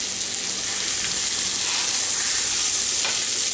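Cube steak frying in butter in a pan, with a loud, steady sizzle and hiss running unbroken throughout.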